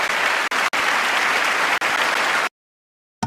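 Sustained applause from lawmakers in the chamber of Congress, a dense roar of many hands clapping nearby with a couple of brief cuts, then abrupt silence before it resumes for a moment at the end.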